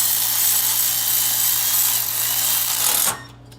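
Power tool fastening a fan onto a big block engine in a 1968 Chevrolet Impala: a loud, continuous high-pitched whir for about three seconds, then an abrupt stop that leaves a faint background hum.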